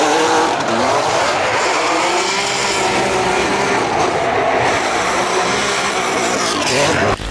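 Ferrari LaFerrari driven sideways in a drift, engine roaring loud and continuous with tire squeal running through the whole stretch, no talking.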